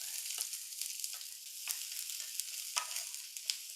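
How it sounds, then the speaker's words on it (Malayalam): Chopped onion frying in hot oil gives a dense, steady sizzle and crackle, close and fairly loud, with sharp spits and pops at irregular moments throughout. "എണ്ണയും ചൂടായപ്പോൾ അതാ സവോള ഇട്ട് കൊടുത്തു"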